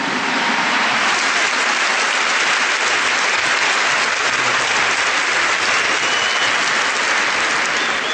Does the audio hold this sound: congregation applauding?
yes